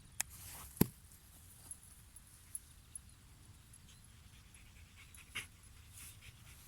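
A dog pants close by, quick soft breaths repeating under a quiet room tone, broken by a few sharp clicks and knocks.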